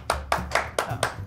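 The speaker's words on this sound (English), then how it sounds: "Oh, okay, yeah, let's clap." A small group of people claps five times in quick succession, each burst of applause sharp and close, with a light room tone underneath and no talking.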